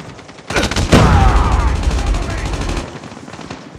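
An automated sentry gun fires in a multiplayer shooter video game, a rapid burst of loud gunfire that starts sharply and rattles on for about two seconds before tapering away.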